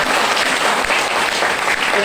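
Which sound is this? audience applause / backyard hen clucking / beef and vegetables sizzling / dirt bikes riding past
audience applause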